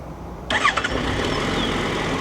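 A Suzuki Bandit 1250FA motorcycle with 15,000 km on it cranks briefly and fires up, then settles into a smooth, steady, quiet idle, heard close with no talk.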